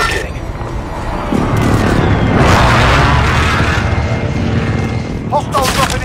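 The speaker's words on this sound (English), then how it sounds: "Friendly precision airstrike inbound." Booming precision airstrike explosions in Call of Duty: Warzone, a dense, sustained barrage of blasts and rumbling impacts rolling on for several seconds, with sharp crackling bursts near the end.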